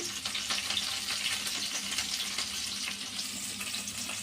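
Onions, curry leaves, coriander and mint frying in oil give off a steady, faint sizzle with soft crackles throughout. No talking can be heard.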